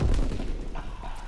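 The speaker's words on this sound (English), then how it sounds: "Was that grenade, like, stuck on me or something? Yeah, they're sticky grenades." A sticky grenade explodes in a Call of Duty WWII team deathmatch on the Aachen map, one loud, close boom with a heavy low rumble that decays over about a second.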